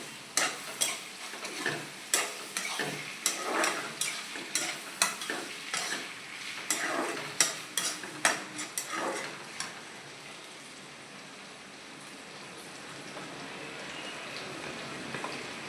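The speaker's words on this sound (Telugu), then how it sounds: "ఇప్పుడు నెత్తళ్ళు అయితే వేగిపోయి ఫ్రెండ్స్ చూడండి" Dried fish fry with tomato in a pan: a utensil scrapes and stirs in quick, irregular strokes over a steady sizzle, and the sizzle then carries on alone, softer.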